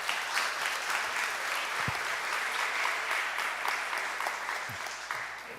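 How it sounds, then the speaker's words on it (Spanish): Audience applause for a lecturer at an evening lecture series marking the anniversary of Chetumal's founding, a steady wash of many hands clapping that holds for several seconds and thins slightly toward the end, with no talk over it. "Un aplauso para el conferencista."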